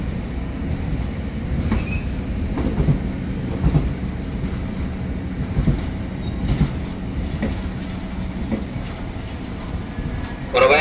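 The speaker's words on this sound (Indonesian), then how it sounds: "jalur 4 masuk kereta api Erlangga tujuan Surabaya Pasar Turi" Erlangga passenger train bound for Surabaya Pasar Turi pulls into track 4 at Jatinegara station, with a steady loud rumble of wheels, rhythmic clicks over rail joints and occasional squeals throughout.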